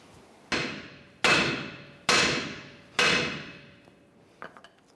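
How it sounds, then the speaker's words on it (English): Four sharp hammer blows ring out on the steel steering knuckle of a 2011-2018 Ram 1500 during wheel bearing and hub replacement, evenly spaced and loud, each with a metallic ring that fades, followed by a few faint clinks. "we're going to strike the knuckle here to release that"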